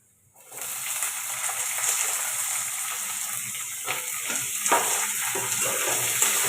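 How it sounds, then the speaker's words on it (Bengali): Onions and garlic fry in hot oil in a pan, a steady close sizzle starting abruptly after a brief silence and continuing with occasional stirring knocks and crackles. "পেঁয়াজটাকে হালকা ভেজে নেব।"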